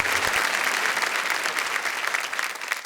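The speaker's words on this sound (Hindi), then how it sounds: "जोरदार तालियां राधा और भगवान मकरन के लिए।" A large audience at a poetry recital claps loudly and steadily, a dense, sustained wash of applause that holds for the whole stretch with only slight dips.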